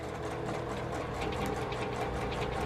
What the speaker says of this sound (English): So now I have a nice straight line where I can sew 1/4 inch.